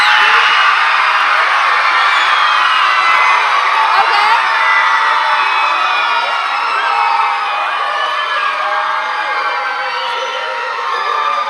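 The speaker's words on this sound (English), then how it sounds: "So I want to hear who gets the loudest cheer." A large crowd screams and cheers continuously for several seconds, loud and high-pitched, slowly tapering off toward the end.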